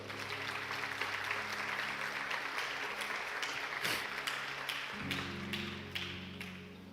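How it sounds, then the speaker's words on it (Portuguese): A church congregation applauds with a dense, even wash of clapping over sustained organ or keyboard tones, fairly soft and steady throughout. "Você pode aplaudir o Senhor?"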